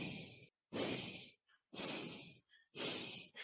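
A voice imitates uneven, offbeat breathing: four long hissing breaths with short gaps and faint catches between them, close and alone.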